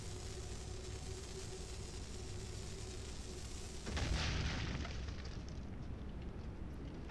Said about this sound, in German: Gehen zur Mitte her, Dynamit rein. Zündschnur drauf.